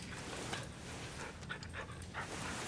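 A dog pants in quick, breathy rhythm and lets out a few soft whimpers, close by and fairly quiet, with no voices heard.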